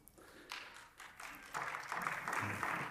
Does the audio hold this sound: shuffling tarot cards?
no